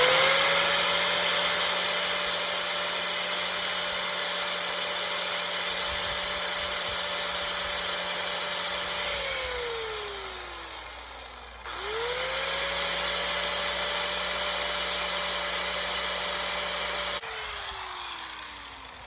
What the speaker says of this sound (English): I'm gonna take a grinder and kind of clean the ends of them up